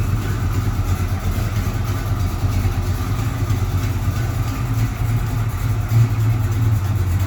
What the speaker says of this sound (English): This is the first time it's moved on motor out of the garage this last year.